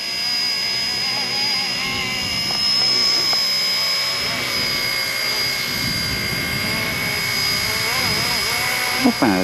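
An RC ERA UH-1 model helicopter flies outdoors on a slightly windy day, its high-pitched motor whine and rotor buzz steady and shifting in pitch as it manoeuvres, while someone talks over it.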